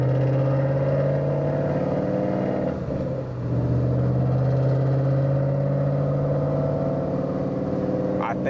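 A loud Shelby Mustang rumbles close by with a deep, steady low drone that dips briefly and then swells again as it drives past.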